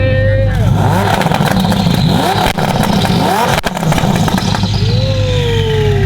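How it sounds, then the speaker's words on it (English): Lamborghini Huracan with a twin turbo V10 starting up and revving, a loud close engine roar with rising and falling rev sweeps and a steady idle, with people talking over it. "Go fire up the Huracan, baby."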